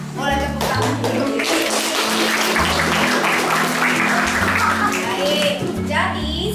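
Classroom applause: a sustained burst of clapping in a schoolroom, loud and steady for several seconds, mixed with children's voices calling out.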